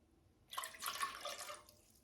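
Water poured from a cup into a cooking pot while making menudo, a brief splashy pour of about one second rising suddenly and tapering off, fairly faint and alone.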